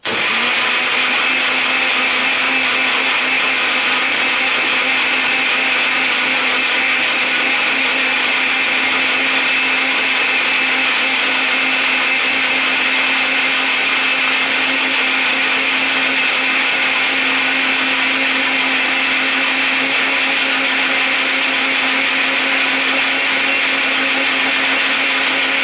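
Blender whirring steadily as it mixes homemade washing powder, a loud continuous motor drone with a steady pitch that runs without pause for the whole stretch, no voices present.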